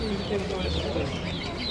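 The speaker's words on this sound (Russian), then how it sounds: "птичий рынок, Цицевская, 8А." A busy bird market in Kazan gives a brief wash of pigeon coos and poultry clucks mixed with crowd murmur, all blended together at moderate distance.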